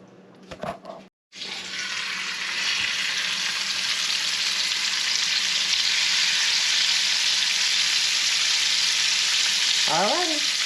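Fish searing in butter and olive oil in a hot pan, a loud, steady sizzle that bursts in after a brief clatter and holds evenly, with a short squeak near the end.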